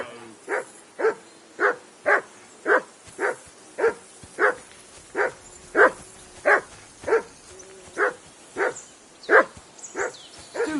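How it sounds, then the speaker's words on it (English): A dog barks steadily in Kingdom Come: Deliverance II, with about sixteen evenly spaced barks at moderate distance and no talk over them. "Do something with that mutt, Henry."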